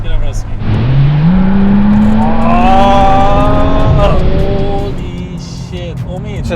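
Porsche 911 Turbo S engine revs up hard with a rising, sustained tone close by, then eases off as it settles back down.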